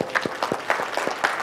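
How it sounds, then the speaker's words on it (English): Brief applause from a summit keynote audience, a handful of distinct, close claps in an uneven rhythm, fairly sparse rather than a full ovation. "I just want to give her a round of applause"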